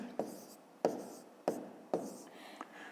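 A pen writes the number 250 by hand on paper in four short, distinct scratching strokes, close and quiet.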